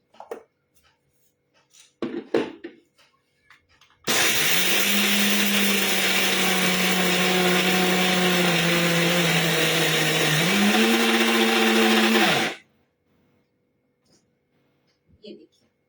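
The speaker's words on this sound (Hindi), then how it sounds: "ये देखिए बहुत अच्छे से ये ग्राइंड हो रहा है अभी" A mixer grinder whirs loudly and steadily for about eight seconds as it grinds almonds and nuts into a spread, its motor pitch stepping up briefly near the end, with quiet handling noises before and after.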